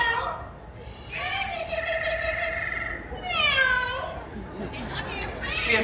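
A parrot at a live animal-kingdom bird show imitates a cat's meow with drawn-out, wavering, rising and falling calls, fairly close, with children's voices and chatter in the background.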